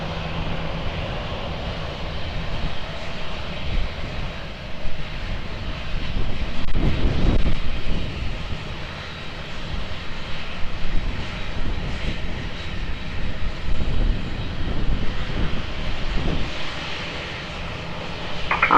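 A fixed-wing airplane holds on runway 20 at Lisbon Airport before takeoff, its engines giving a steady, broad roar that swells in the middle and stays moderately loud throughout, with no voices.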